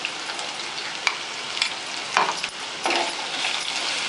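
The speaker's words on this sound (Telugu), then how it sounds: "బెండకాయలు ఇలా మగ్గిన తర్వాత గ్రైండ్ చేసుకున్న ఈ మిశ్రమాన్ని ఇందులో వేయాలి. వేసి ఒక 2 మినిట్స్ ఉడికించుకోవాలి." Okra sizzles steadily in a pan for a masala curry as a ground paste is stirred in, with scraping spoon strokes breaking through a constant close frying hiss.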